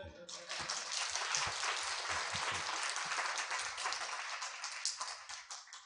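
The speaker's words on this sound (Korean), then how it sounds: "박수로 맞아주시기 바랍니다" An audience at a university launch ceremony applauds to welcome the university president, a dense burst of clapping from many hands that holds steady for several seconds, with some voices mixed in.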